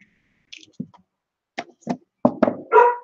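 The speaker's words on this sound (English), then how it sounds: "my dog is barking" A few short, sharp dog barks, spaced out and then bunching together near the end, fairly close with quiet gaps between.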